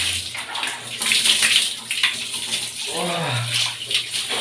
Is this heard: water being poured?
yes